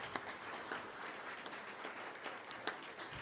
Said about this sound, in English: give all these people a round of applause